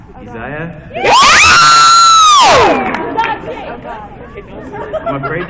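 A convention crowd of anime fans erupts in a loud burst of cheering and screaming lasting over a second, then settles into steady chatter and murmuring.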